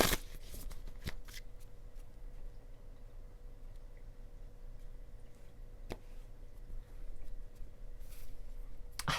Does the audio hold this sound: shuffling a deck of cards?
yes